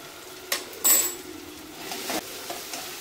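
Masala with chili powder and garam masala sautés in a pan for mushroom pasta, giving a soft steady sizzle broken by a few sharp scrapes and clinks of a spoon against the metal.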